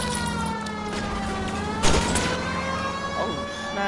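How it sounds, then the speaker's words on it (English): A police car siren wails in the video game L.A. Noire, its steady tones gliding up and down. Driving and engine noise run underneath, and a thud lands midway. "Let me turn on my sirens."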